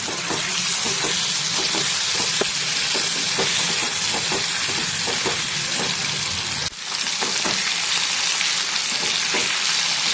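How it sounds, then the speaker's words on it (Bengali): Prawns frying in hot oil give a loud, continuous hissing sizzle, with a brief dip midway before the bubbling roar resumes. "সব থেকে প্রথমে চিংড়ি মাছগুলোকে ভেজে তুলে আলাদা করে রেখে নেব"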